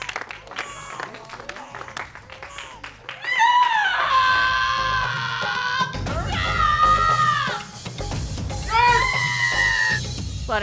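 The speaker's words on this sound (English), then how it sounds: "you hear the air rent with screams like that" A woman screaming while giving birth, loud drawn-out high wails that rise and break off several times over a noisy background.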